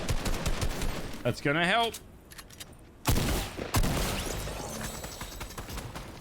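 Gunfire in a video game during a Skar Cup 2020 qualifier match: heavy bursts of shots and rattling impacts, loud and close, with a commentator's voice talking over them.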